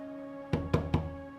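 Three quick, sharp knocks on a door, close and distinct against a low steady hum, with no voices.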